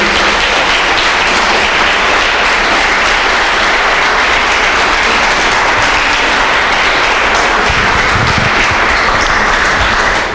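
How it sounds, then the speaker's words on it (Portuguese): Loud, sustained applause from a church congregation during a Portuguese-language sermon fills the whole stretch as a dense, even wash of clapping. "Se você crê nisso, aplaude bem forte a Deus."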